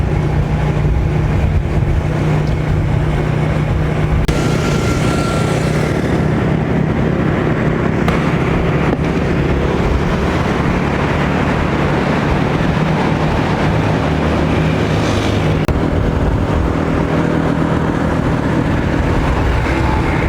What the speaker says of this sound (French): on a repris un taxi moto